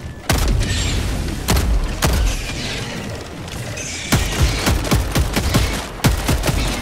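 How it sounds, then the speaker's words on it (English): Orbital gas strike blasts from the video game Helldivers 2: a string of sharp, loud detonation cracks and booms at irregular intervals, several clustered toward the end, over a dense rumbling battlefield roar with no talk. "Requesting orbital strike. Yeah, but right there, I guess. Firing gas strike."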